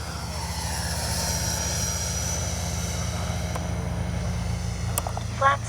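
A radio-controlled L-39 model jet flies past, its steady turbine roar holding loud and constant throughout, with a brief rise near the end as it passes close.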